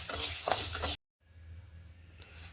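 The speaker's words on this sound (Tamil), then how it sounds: "உளுந்து மட்டும் அரை கப்பு எடுத்து இதையும் நல்லா பொன்னேரமாக பச்சை வாசனை போகிற அளவுக்கு வதக்கி எடுத்துக்கலாம்" Half a cup of urad dal roasting in a pan gives a brief, loud scraping sizzle for about a second, then drops abruptly to near-quiet faint background.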